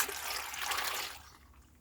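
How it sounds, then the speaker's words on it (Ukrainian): A glass of water poured over washed plums in a pot for jam, a short bright splashing trickle that fades out after about a second, close and alone. "і наливаю скляночку води"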